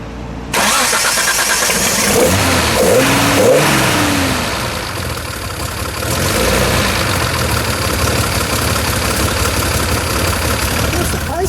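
A 1976 Datsun 280Z, cammed with a 490 lift cam, cranks and fires up, then settles into a loud, steady idle with a few blips of revving from its exhaust, recorded close.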